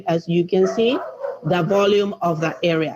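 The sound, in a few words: dogs barking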